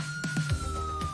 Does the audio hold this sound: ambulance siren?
yes